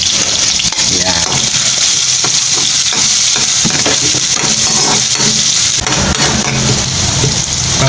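Steady, loud sizzle of ingredients frying in a hot kawali while paklay is cooked, a continuous crackling hiss with occasional stirring clatter.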